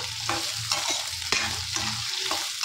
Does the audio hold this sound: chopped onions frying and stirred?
yes